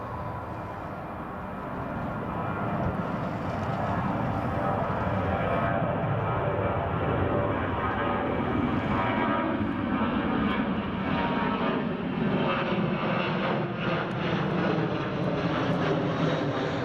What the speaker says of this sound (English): C-17 is now in sight.